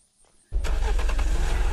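After a brief quiet moment, a car's engine in the video game Unturned starts and then runs steadily with a loud, even mid-pitched drone.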